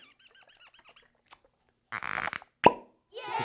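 A sharp hollow pop as a cork pulls free from a Laphroaig whisky bottle, followed by a brief squeak and a glugging pour, after some small clicks and light handling.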